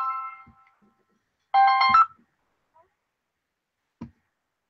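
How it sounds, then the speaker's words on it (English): A phone ringtone for an incoming call: short bursts of tonal chiming, one faint pattern and then a louder one, with quiet gaps and a few soft clicks. "I got a call coming in, bro."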